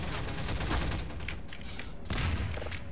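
An enemy launches rockets in the video game Cosmonaut: dense, continuous blasts and thuds crowd together in a loud barrage, with a short lull before the firing surges again.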